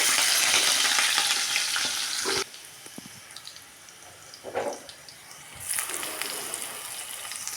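Onions and green chilies frying in a pan give a loud, hissing sizzle that cuts out abruptly partway through, with a few quieter stirring sounds during the pause, then swells again near the end.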